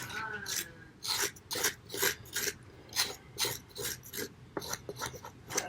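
A Civivi Relic knife blade scrapes and shaves a scrap piece of wood in about a dozen rhythmic rasping strokes, close and distinct, with short pauses between passes.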